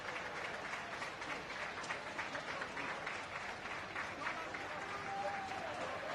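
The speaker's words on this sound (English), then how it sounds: "A lot of applause is for Luke Mooney" Spectators at a schools rugby match between a 1st XV and Castleknock College applaud steadily as an injured player leaves the pitch, a sustained, fairly distant wash of clapping.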